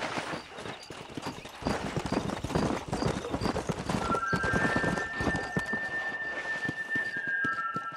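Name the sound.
horse galloping in Red Dead Redemption video game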